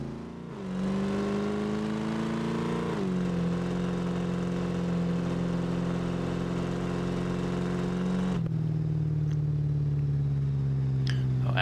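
A car engine in the BeamNG driving game revs hard on a drag run while already heated. A loud, droning pitch climbs through the gears with brief dips at the shifts, then tapers off near the end.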